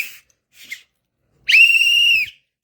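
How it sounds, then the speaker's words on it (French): A whistle blown to mark the end of recess, a single sustained shrill blast lasting under a second, preceded by two faint short chirps. "j'ai sifflé aujourd'hui la fin de la récréation"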